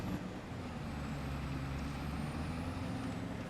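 A Scania T-cab truck in Farming Simulator 25 gives off a steady, low engine drone with a rumbling undertone that stays even for the whole stretch, with no voices.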